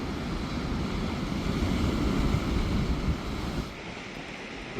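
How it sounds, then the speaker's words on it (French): Large ocean waves breaking against cliffs at a former fishing village, a steady loud roar of surf mixed with wind buffeting the microphone that eases slightly near the end. "vous avez vu la taille des vagues ici."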